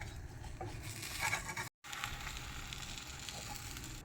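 A cheesy leafy-green curry sandwich crisping in a pan, giving a soft, steady sizzle and faint crackle at low volume, with a short silent break partway through.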